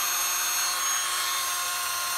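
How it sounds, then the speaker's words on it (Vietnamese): A used cordless drill runs steadily with a thin, high whine, close and even for a couple of seconds without pause or voices. "Máy chạy êm, 22 cấp trượt một cấp khoan, trái phải ok, điều tốc ok, thắng ok nhá."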